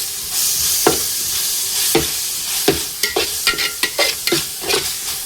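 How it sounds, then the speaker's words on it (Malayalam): A spoon stirs beef biryani masala with salt in a pot, each scrape and clack landing over a steady sizzle, the strokes quickening into a rapid run of knocks toward the end. "ഒന്ന് ഇളക്കി ഇട്ട് കൊടുക്കാം."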